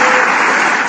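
A dense, loud burst of clapping from a crowd, continuous and even throughout the short moment.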